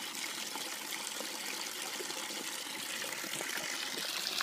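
Water pouring from a household tap for a child's splashing play, a continuous close gushing and trickling rush that stays steady throughout with no talk.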